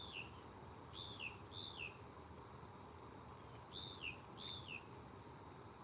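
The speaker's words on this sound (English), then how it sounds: "There's a bird up there looking down at me." A bird gives faint, high, sliding two-note calls in pairs, repeated with pauses, against a soft outdoor background hiss in a garden.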